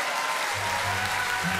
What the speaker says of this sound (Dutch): Chantal Jansen, misschien een applausje